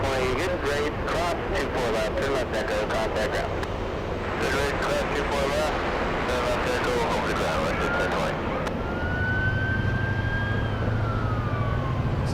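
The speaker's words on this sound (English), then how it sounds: "Hearing a lot of sirens." Emergency sirens wail near Los Angeles airport, rising and falling under steady background noise and airport ambience, with a person talking over them.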